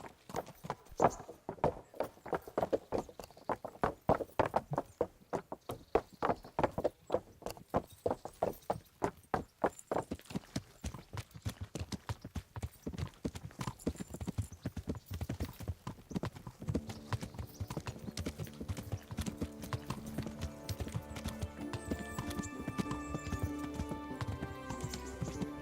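Galloping horse hooves in a video game, fast and regular clip-clop beats carrying on for the whole stretch, later joined by sustained musical tones rising beneath the hoofbeats.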